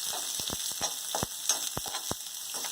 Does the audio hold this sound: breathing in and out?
no